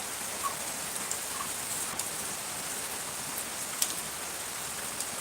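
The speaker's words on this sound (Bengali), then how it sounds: "আজকের সকালটা একটু অন্যরকম বৃষ্টির সকাল" Steady early-morning rain falls at dawn, a soft continuous hiss of drops on surfaces with a few faint, brief ticks, heard alone without talk.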